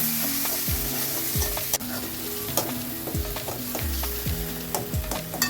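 Onion, curry leaves and tomato fry in a pan for a fish curry, a constant sizzle broken by repeated rhythmic scraping strokes of a spatula, close and fairly loud, with no talking.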